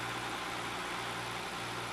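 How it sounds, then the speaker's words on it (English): A 2005 Mercedes-Benz CL600 with a 500-horsepower twin-turbo V12 idles, a smooth, even low hum held steady and fairly quiet throughout. "the V12, an amazing engine"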